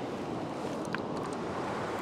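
Ocean surf surges and washes against coastal rocks at a rock fishing spot, a steady broadband wash with a brief splash, fairly loud with wind across the microphone and no talk.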